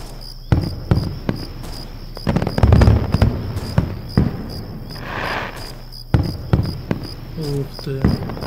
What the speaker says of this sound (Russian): но ничего, такой фейерверк.